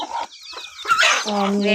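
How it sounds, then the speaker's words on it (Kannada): Farm chickens clucking close by, short busy calls from a small flock, with a person's voice talking at the start. "ನಮ್ಮ ಕೋಳಿಗಳಿಗೆ ಮೇವಿಗಿಂತ ಜಾಸ್ತಿ ನೀರು ತುಂಬ ಮುಖ್ಯ"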